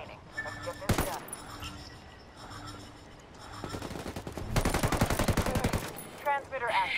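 Gunfire rattles through a competitive video game match: a sharp single shot, then sustained rapid machine-gun bursts that grow louder and denser toward the end, with scattered game sounds between.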